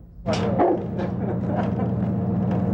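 A dog barks several times in close succession, loud and near, over a steady low background hum.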